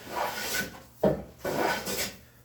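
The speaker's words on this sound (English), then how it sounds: "Planing is basically just getting rid of high spots." A hand plane shaves a walnut board in roughly three close, raspy strokes, each a rough wooden swish lasting about a second, with short gaps between strokes and no talking.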